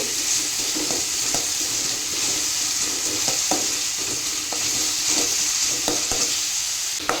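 Vine leaves with a pinch of salt fry in a pan, giving a continuous loud sizzle broken by occasional sharp clicks and scrapes of stirring, with no talking.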